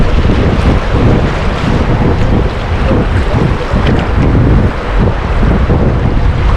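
Whitewater splashes over a canoe running rapids on the Spanish River, with steady, close, roaring rush and wash and heavy wind buffeting throughout, with no voices.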